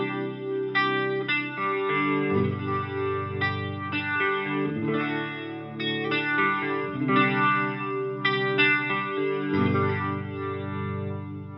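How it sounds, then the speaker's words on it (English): Electric guitar played through an Electro-Harmonix Lester G rotary speaker pedal on its slow setting, balance knob centered: sustained chords and notes with a steady, swirling chorus-like wobble and light grit, loud and continuous, with no talking. "we're going to pop on this pedal, and I've got it set to the slower mode"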